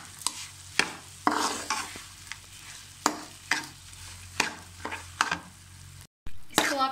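Besan halwa with sugar and raisins being stirred in ghee in a pan, a spoon scraping in repeated strokes over a steady close sizzle, with one brief cut to silence near the end.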